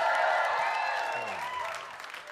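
Audience applause fades out at a live stand-up comedy show at Gotham Comedy Club, a short burst of clapping and cheering that quickly tapers into quiet.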